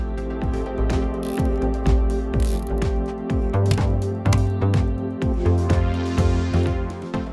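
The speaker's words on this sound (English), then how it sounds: "We fix the solenoid on this bar using plastic ties." Plastic zip ties are tightened to fix a small solenoid onto a wooden bar, giving a quick run of sharp, close ratcheting clicks in rapid rhythm.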